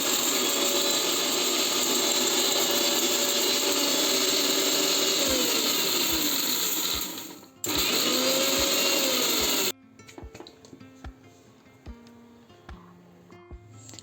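A mixer grinder grinds fried masala with garlic for chicken ghee roast, giving a loud, steady high whine with pitch sweeps. It stops briefly, restarts, then cuts off, leaving quiet clinks and handling sounds.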